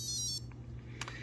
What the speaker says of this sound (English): The little sound you heard there was this piezo buzzer